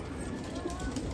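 Low, soft cooing of pigeons in a loft murmurs through steady background noise at close range, a continuous throaty rumble without clear breaks.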